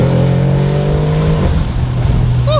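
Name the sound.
Audi RS7 engine revving with Valvetronic Designs exhaust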